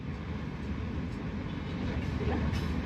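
Jaffer Express train rolling into Multan station: a steady, loud low rumble of wheels and carriages, continuous throughout with no distinct clacks.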